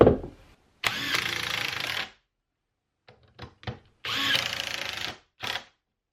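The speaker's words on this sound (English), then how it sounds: "So I can get those screws started here with my drill." A power drill driving screws into a wooden workbench vise whirs in several bursts, two longer runs and a few short stuttering pulses, close by with silent pauses between.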